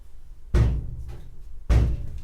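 Bare steel door on a 1964 Mk1 Mini being restored, without glass, shuts twice about a second apart, each a solid thunk ringing briefly in the workshop.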